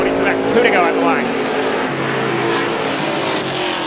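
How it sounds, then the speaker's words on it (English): Stock cars race at Star Speedway in a heat event, engines roaring steadily and loud throughout, with a race announcer talking over the engine noise. "Cashman underneath Storis now down the back straightaway, see if he can get the spot into turns 3 and 4"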